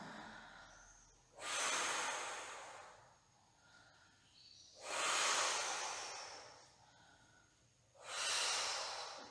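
Three long, forceful exhales spaced evenly apart, close and breathy with quieter inhales between, as someone breathes through a Pilates exercise focused on breathing, with no talking.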